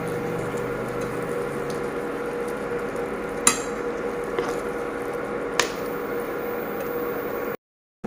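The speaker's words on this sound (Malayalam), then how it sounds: "ഇനി നമുക്ക് ഈ വറുത്ത് വെച്ചിരിക്കുന്ന ഫ്ലവർ ഇതിനകത്തോട്ട് ചേർത്ത് ഇളക്കിയെടുക്കാം." Fried cauliflower being stirred into thick gravy for gobi manchurian, a continuous soft wet squelching and sizzling with a few sharp clinks of a spoon against the pan, no talk.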